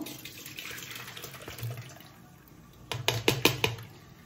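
Cooking water with cumin is poured through a strainer, first a soft trickle, then louder splashing bursts of liquid near the end.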